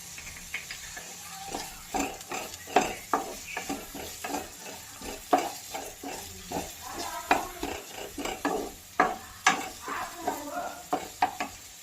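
Onions and spices frying in oil for a chicken curry with a little sugar and salt added, a quiet sizzle broken by frequent clinks and scrapes of a spoon stirring the pan.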